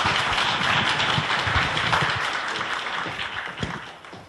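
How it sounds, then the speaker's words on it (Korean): Audience applause at a corporate culture-and-arts forum, a full burst of clapping that starts loud and gradually thins and fades toward the end. "이런 박수 부탁드리겠습니다."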